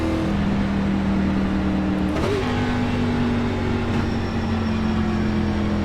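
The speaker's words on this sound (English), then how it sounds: "I can finally stop hearing the absolute loudness of that NASCAR Cup car" NASCAR Cup car engine in the iRacing video game at Daytona, a loud steady drone held at high revs throughout, its pitch stepping up once partway through as the car keeps running flat out.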